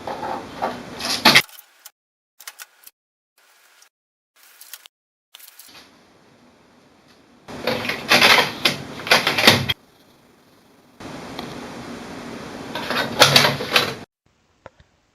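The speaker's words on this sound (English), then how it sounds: "Let us remove the tapes from the printer." Packing tape being peeled off an HP OfficeJet Pro 9020-series printer, loud crackling bursts of tape ripping away in several separate pulls with quiet pauses and small clicks between.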